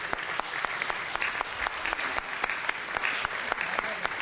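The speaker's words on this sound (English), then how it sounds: "I believe that deserves a great round of applause." A room full of people in a state assembly chamber applauds steadily, with sharp individual claps standing out over a dense wash of clapping.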